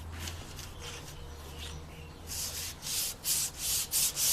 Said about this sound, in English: Should hire an assistant to do the sanding for you.